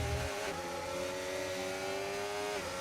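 Race cars in a simulated racing game at the Saudi Arabia round, a steady loud engine whine holding high revs with a slight pitch drift, continuous and without pauses.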